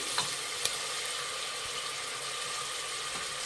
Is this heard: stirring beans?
yes